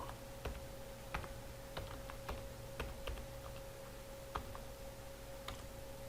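Someone types on a computer keyboard while entering text, with sparse, separate key clicks at an irregular, unhurried pace, set against a steady low electrical hum in a quiet room.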